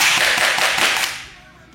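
A nylon-slide, gas-free blowback handgun cycling fast, a quick burst of sharp snapping cracks packed close together in the first second, then fading away to quiet.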